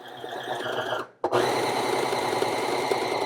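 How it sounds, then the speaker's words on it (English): A Necchi C35 sewing machine drives through eight layers of denim with a dense, steady motor whir, pausing briefly before resuming at full speed, close and loud. "there I've done 8 layers of denim with no problem"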